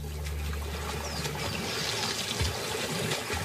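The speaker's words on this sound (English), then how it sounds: "The dominant male ripples the water to advertise he's ready to mate." Water trickles and sloshes steadily as a dominant male crocodile vibrates his trunk muscles to ripple the surface during mating season, a close, continuous liquid burbling with a low rumble underneath.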